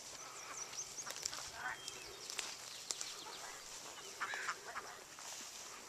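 Egg-laying ducks quack faintly and intermittently as they are herded toward a permaculture garden, with a couple of brief nasal calls against a soft outdoor background.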